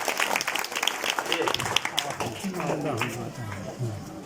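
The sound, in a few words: audience applause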